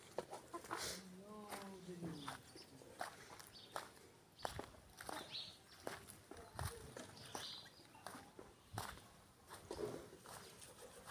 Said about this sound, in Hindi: ये वो मुर्गियाँ हैं जो हमने बाहर खुली छोड़ी हुई हैं